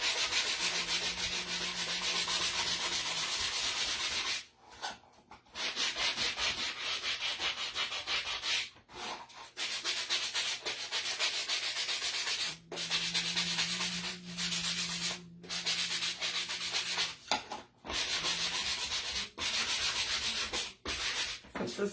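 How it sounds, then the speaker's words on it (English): A sanding block scrubs hard over painted wood, distressing a rustic Christmas yarn tree craft in long steady rasping strokes with a few brief pauses, close and loud with no talking. "I'm just going to take my sanding block and I'm really going to distress it a lot."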